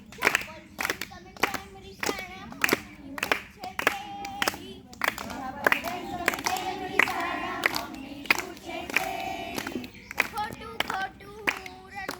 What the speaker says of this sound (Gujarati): આવી હું વગાડું તાળી.